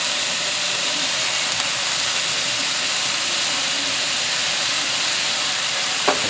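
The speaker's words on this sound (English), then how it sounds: "Give them a quick stir fry." Chicken and broccoli stir-frying in a hot wok with soy and oyster sauce: a loud, continuous, bright sizzle that stays steady throughout, close up and with no talking over it.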